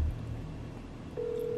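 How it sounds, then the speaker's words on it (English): A phone call being placed, with a close steady tone and a low electronic hum. A higher sustained tone starts partway through, and no one talks over it. "I'm literally calling Ferran from the royalty family right freaking now"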